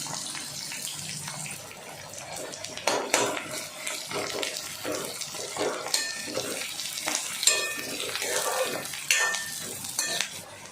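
Onion and green chillies sizzle in a pan, with a steady soft frying hiss under frequent metallic clinks and scrapes of a spoon stirring against the pan.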